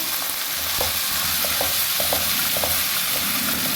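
Green peas frying with potatoes in a pan for aloo mongray, a steady loud sizzle throughout with occasional soft clicks of stirring.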